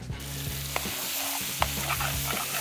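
Ground meat seasoned with smoked paprika, cumin, salt, white pepper and oregano sizzling in a pan, a soft steady fry broken by repeated scraping stirs of a utensil, close and fairly quiet, no talk.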